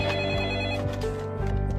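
Telephone ringing on a call placed to the electricity company: a short electronic ring tone, clear and fairly close, lasting under two seconds with a steady hum beneath it and no voices.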